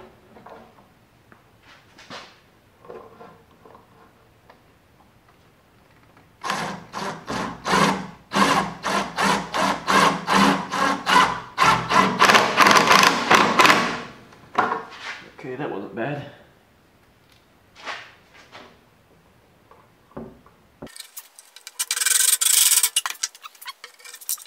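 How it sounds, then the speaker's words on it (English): A power driver sinks screws inside a wooden shop air cleaner box, with loud rapid buzzing bursts of a few seconds each, some quieter whirring and knocking around them, and a person talking briefly between the bursts. "I'm going to attempt to reach in here and drive the screws"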